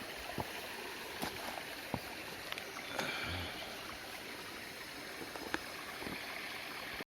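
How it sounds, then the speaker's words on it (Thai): A waterfall deep in a Thai mountain forest, near the source of a stream: a steady, broad rush of falling water fills the whole stretch, with a few brief knocks and splashes rising above the constant roar. "ทุกคนเห็นไหมครับ มีน้ำตกนะครับ เริ่มมีน้ำตกครับ"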